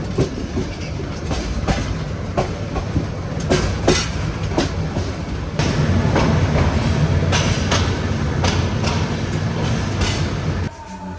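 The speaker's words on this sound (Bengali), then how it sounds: "আর ওই পাশ দিয়ে আরেকটা ট্রেন যাচ্ছে।" A train rumbles past close by at Kamalapur railway station, wheels clattering rhythmically over the rails, the noise swelling midway and holding steady before cutting off abruptly near the end.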